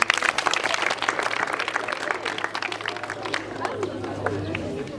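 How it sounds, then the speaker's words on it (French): Students and guests clap at a school gathering, with strong applause at first that thins out toward the end while murmuring voices and chatter carry on beneath it. "Applaudissez, on écoute."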